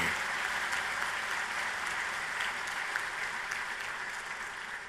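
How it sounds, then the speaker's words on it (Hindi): Large audience applause at Prime Minister Modi's inauguration of Construction Technology India 2019 in New Delhi, a broad, steady wash of many clapping hands from a hall, even and sustained and fading slightly near the end. "उसमें तो ताली बजा सकते हैं।"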